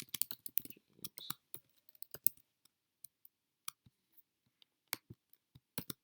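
Someone types on a computer keyboard, producing quiet, crisp key clicks in irregular bursts and single taps with short pauses between them.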